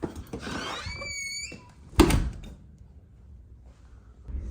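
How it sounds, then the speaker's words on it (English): A garage door in a house is pulled shut, ending in one sharp thud near the middle, preceded by brief squeaky scraping and followed by quiet room tone. "I'm going to shut this garage door here"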